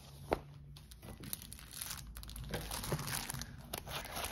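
Plastic wrap is torn and crinkled off a Hachette Disney cross-stitch magazine issue, number 40, producing quiet, close, irregular rustling and crackling with a few sharper snaps and no talk.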